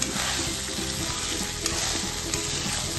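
Rice is stirred and fried in a pot for chicken biryani, giving a loud, continuous sizzle with scraping stirring sounds and a few sharper knocks of the spoon against the pot.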